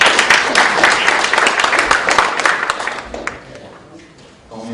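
An audience at a forum applauds a guest, a crowd of clapping hands that starts strong, thins and fades out over a few seconds as a voice begins.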